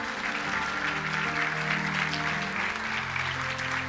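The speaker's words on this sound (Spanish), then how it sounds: "¿Le puede dar un fuerte aplauso a Dios?" Church service congregation giving a round of applause to God, a steady sustained clapping wash at moderate level with faint tonal music underneath.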